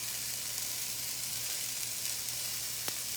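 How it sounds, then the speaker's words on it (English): Mushrooms sauteing in a fry pan with a steady, soft hiss of sizzling moisture throughout, plus a single faint click of a utensil near the end. "just gonna saute this a little bit and get the moisture going out of there"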